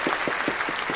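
Steady applause from a crowd, with dense clapping and a few distinct louder claps recurring throughout.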